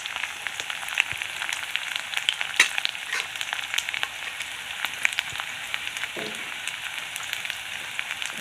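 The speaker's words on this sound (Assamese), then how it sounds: "অলপ ভাজি ল'ম ৰঙচুৱাকৈ" Food frying in a pan with garlic, cooked until reddish, gives a steady close sizzle with occasional stirring scrapes and no talking.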